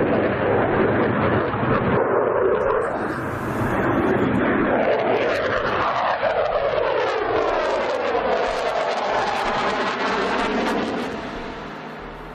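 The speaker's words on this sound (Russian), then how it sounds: "Вы имеете уникальную возможность увидеть один из первых полетов самолета Су-34 на Липецком аэродроме." A Su-34 jet aircraft flies over the Lipetsk airfield, a loud continuous engine roar that sweeps past with a pitch-shifting whine, then slowly fades as it moves away.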